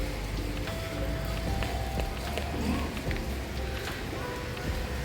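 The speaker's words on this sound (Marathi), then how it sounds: "मी तुम्हाला पाऊससुद्धा दाखवते. बघा, अल्थान विस्तार मधला पाऊस." Steady rain falls outdoors in a residential area at midday, a continuous even hiss with scattered drop patter at moderate loudness and no speech.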